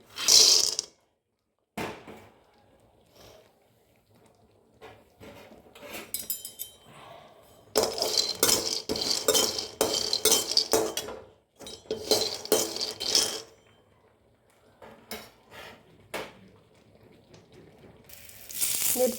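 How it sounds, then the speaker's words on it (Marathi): Peanuts roasting in a hot wok (kadhai), heard as bursts of rattling, scraping metal stirring and clinking, close and fairly loud, separated by quieter gaps. "हे कढई गरम करायला ठेवली, शेंगदाणे भाजून घेऊया।"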